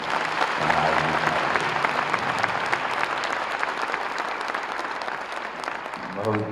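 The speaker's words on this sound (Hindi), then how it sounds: "एक जोरदार ताली हमारे महाराज जी।" Large crowd at a public ceremony in Gorakhpur applauds loudly for Maharaj ji, a steady wash of clapping that runs unbroken throughout, dense and fairly distant.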